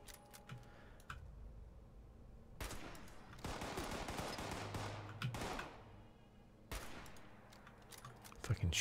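Gunfire in the video game Fallout 76, heard as quiet bursts of rapid clicking shots in two clusters separated by near-silent gaps, with faint keyboard-like clicks between them.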